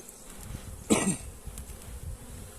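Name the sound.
honey bees buzzing in an opened hive frame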